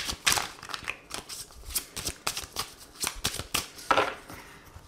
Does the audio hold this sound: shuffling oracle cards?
yes